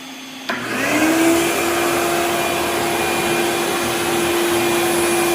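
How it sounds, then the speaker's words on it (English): Shop vacuum switches on half a second in, starting with a sharp click and spinning up into a loud, steady whine alongside an X-Carve CNC router spindle, which continues running throughout without any speech. "Let's turn the vacuum on."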